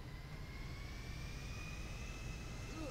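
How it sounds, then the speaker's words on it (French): A video game airplane's engine drones steadily, a constant loud jet-like roar with a faint whine and no breaks. "prends l'avion, on va se balader avec"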